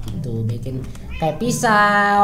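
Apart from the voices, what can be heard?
cat meowing in Minecraft video game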